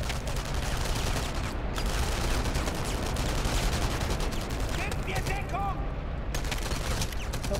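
Dense gunfire rattles almost continuously through a World War II firefight in the video game Enemy Front, bursts of shots stacking up over a steady rumble of battle noise, with someone speaking over it.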